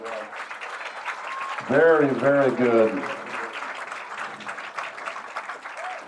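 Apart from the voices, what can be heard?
audience applause at police K9 dog exhibition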